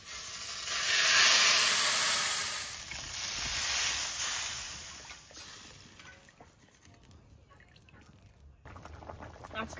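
Water poured into a hot pan of frying parshe fish curry with potatoes, a loud rushing hiss and sizzle that swells, eases, then fades to a quieter bubbling simmer.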